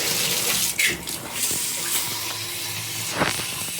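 A shower in a Rosen Centre Orlando hotel bathroom runs at full pressure as it turns hot, a loud continuous hiss of spraying water with small splashes and shifts in the flow, heard close up.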